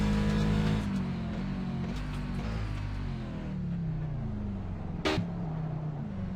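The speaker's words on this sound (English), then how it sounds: "Just listen to these engines purr" Race car engines drone steadily with rising and falling pitch at a sports car race at Kansas, a sharp whoosh cutting through briefly near the end.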